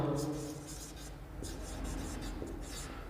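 Marker or chalk writing on a board during a physics lecture on jet force against a plate, a series of short scratchy strokes heard close over a steady hum and faint background tones.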